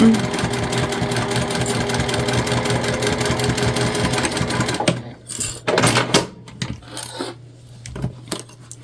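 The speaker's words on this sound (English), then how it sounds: "So we're just going to back stitch. We're going to come in a little bit, back stitch really good here." Sewing machine back stitching a seam on a quilted fabric pouch, a steady close mechanical whir for about five seconds, then stopping and starting in short bursts with light handling clatter.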